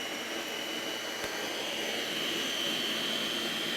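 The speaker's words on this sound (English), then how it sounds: "When we turn the vacuum on, this power head is going to come on when we lower the nozzle" A Miele C3 HomeCare vacuum cleaner runs steadily with its power head engaged, a constant whining roar with a bright high tone, heard close and alone with no talking.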